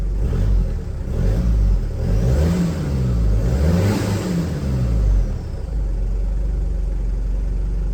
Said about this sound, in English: for a turbo diesel it idles really good. And I'll give it some gas.